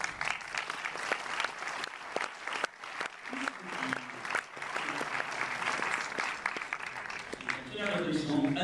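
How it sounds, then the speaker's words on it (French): Audience applause at the opening night of the Paris International Fantastic Film Festival, a dense, steady clapping from a large crowd that swells near the end, with a voice briefly audible over it. "Un applaudissement à nous."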